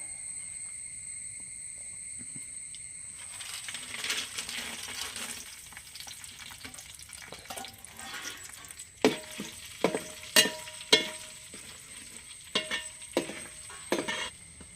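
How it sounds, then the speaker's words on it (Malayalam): Unshelled peanuts roasting in a dry pan, a steady crackling rustle with repeated sharp rattling clicks as the shells are stirred and tossed, growing busier toward the end. "ഇനി ഞാൻ കപ്പലണ്ടി ഒന്ന് വറുത്തെടുക്കുകയാണ്."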